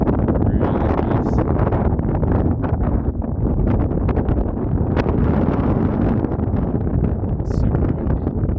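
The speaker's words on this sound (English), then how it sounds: "Super windy." Strong wind roars steadily across a high mountain ridge in the Kananaskis area, a constant loud broadband rush buffeting the microphone with occasional gusty flutters.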